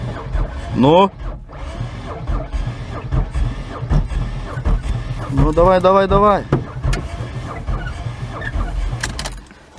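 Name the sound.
Ford car engine cranking, failing to start (engine block holed)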